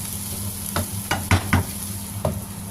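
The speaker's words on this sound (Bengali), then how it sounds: "ডিমগুলোর সাথে করলাটাকে একটু মিক্স করে দিচ্ছি।" Bitter gourd and fish roe are stirred in a frying pan, a handful of distinct spatula scrapes and knocks spaced irregularly over a quiet, continuous sizzle.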